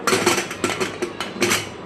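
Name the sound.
pressure cooker lid being closed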